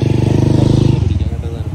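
A Honda bike taxi engine idling with a fast, even putter close by, its throb loosening and fading toward the end.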